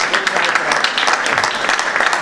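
A theatre audience at a Romanian cultural-centre book event applauds continuously, a dense, loud wash of many hands clapping close by.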